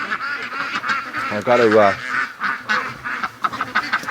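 Free-range ducks in a morning pen, a close, busy mix of honking, quacking calls with one loud drawn-out cry, while someone speaks briefly.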